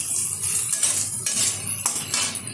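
Metal utensil scraping and clinking in a pan as fried eggs are stirred with oil-cooked spices for a Bengali egg curry, with a few sharper scrapes over steady sizzle and no talking.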